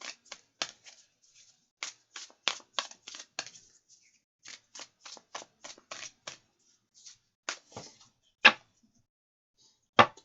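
A deck of playing cards is shuffled with a run of quick, crisp riffling bursts and flutters, some sharper snaps standing out, close and clear with short pauses between passes.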